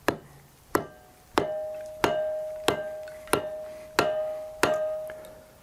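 Eastern Red Cedar being split with a Kindlin Cracker cone splitter struck by a 16-ounce hammer: eight sharp, ringing metallic strikes at an even pace, close and clear, with no talking.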